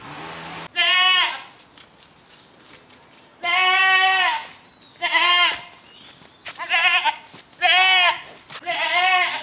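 Goat raised at home for meat, bleating loudly and close by in a series of long and short cries separated by brief pauses.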